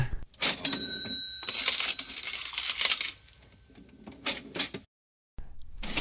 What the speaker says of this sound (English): Maybe we change it and make it like a cash register is going